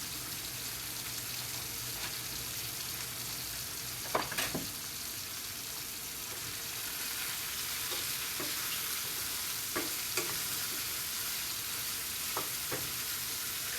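Cheesy mushroom risotto being stirred in a pan over heat, a steady soft sizzle and scraping throughout with a few sharper spoon knocks against the pan, close and continuous with no talking.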